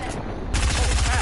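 Rifle gunfire in a video game breaks out partway through as a sudden, loud burst of rapid shots, with a voice speaking faintly underneath.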